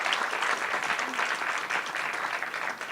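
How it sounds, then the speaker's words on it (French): An audience at a sustainable tourism forum applauds Caroline, a steady wash of many hands clapping throughout, fairly close and even in level. "je voudrais que vous l'applaudissiez"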